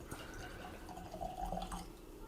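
A drink is poured from a special bottle into a glass, a soft steady trickle of liquid running for about two seconds, close and moderately quiet.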